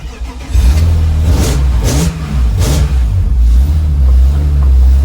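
A BMW E46 M3 engine cranks briefly and catches, then settles into a steady, loud, close idle with a couple of throttle blips along the way.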